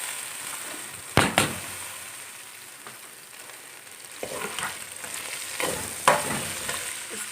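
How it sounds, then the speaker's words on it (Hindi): Mixed vegetables with cauliflower fry in hot oil, a bright steady sizzle broken by a few loud bursts and scraping stirs of a spoon, close by with no talking. "अब हम मिक्स सब्ज़ियां फ्राई करने लगे।"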